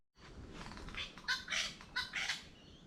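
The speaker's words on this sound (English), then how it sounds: "Not sure what sort of bird that is calling." A bird calls outdoors on a coastal walk, a series of bright chirping phrases rising over steady wind and rustle, moderately close and repeated in short bursts.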